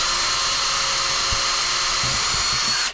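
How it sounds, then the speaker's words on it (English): A power drill whirs steadily and loudly, close by, while boring holes through a roof during a small wood stove chimney installation, then cuts off abruptly at the end. "we'll go drill the holes"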